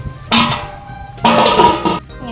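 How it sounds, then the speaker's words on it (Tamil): Two metallic clanks of a lid settling onto a pot of simmering fish curry, each with a short ringing tail, over a quiet kitchen hum. "மூடி போட்டு வைக்கலாம்"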